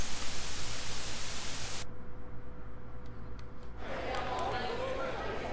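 Loud broadband white noise hisses steadily for nearly two seconds and cuts off abruptly, leaving a dim low rumble, then a softer hiss returns for the last stretch.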